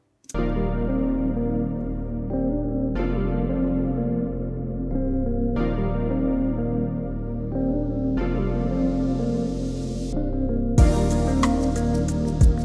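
A chill pop beat intro built from Rhodes, synth, a filtered lead guitar and a growly bass, with chords restarting in a steady repeating pattern and a brighter build near the end, no voices.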